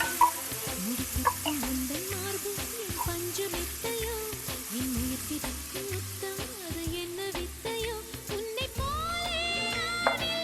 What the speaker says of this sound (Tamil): கட் பண்ணி வச்சிருக்கிற வெங்காயத்தை சேர்த்துக்கலாம். இது ஒரு 2 நிமிஷம் நல்லா வதக்கிக்கலாம்.